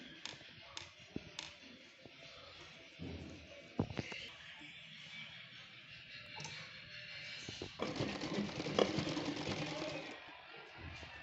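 A sewing machine stitches a salwar in short, quiet runs of rapid clicking and whirring, with pauses between bursts and a longer, steadier stretch of stitching toward the end.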